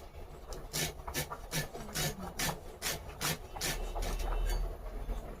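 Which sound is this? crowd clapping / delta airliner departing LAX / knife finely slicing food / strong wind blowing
knife finely slicing food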